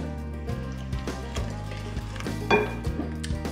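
A utensil stirs muffin batter of eggs, oil, brown and white sugar in a bowl, giving rhythmic scraping and knocking strokes, close and moderately loud with no talking.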